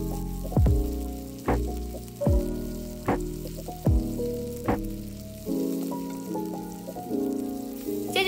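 Shrimp heads fry in a pan for a Spanish seafood paella, pressed to release their juices, with oil spattering loudly and sizzling throughout, punctuated by a series of sharp pops and clanks of the pan at roughly regular intervals.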